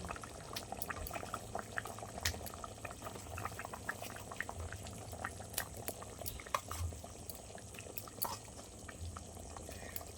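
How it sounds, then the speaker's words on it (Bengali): Mutton curry with potatoes simmering in a pot, a faint steady bed of bubbling with scattered small pops and plops throughout, heard close with no talk. "দেখো তো তরকারি ফুটছে"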